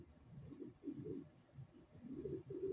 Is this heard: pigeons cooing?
yes